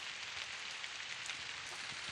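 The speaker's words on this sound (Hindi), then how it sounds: "अभी बारिश स्टार्टिंग हो रही है, हल्की हल्की सी बारिश" Light rain falling steadily on open farmland, a soft continuous hiss of small drops with no voices, fairly faint and even throughout.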